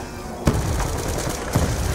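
Gunfire in Black Ops 2 Zombies: two sharp, loud shots about a second apart cut through a dense, continuous crackle of game noise.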